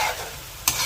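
Chicken pieces frying in oil for Ilocano tinola are stirred briefly, a close, bright sizzle with a sharp scrape of the spoon near the end.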